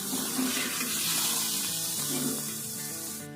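A little water is poured into a hot cooking pot while making a beef dish, a close, steady rushing splash and sizzle that slowly eases off, with no talking.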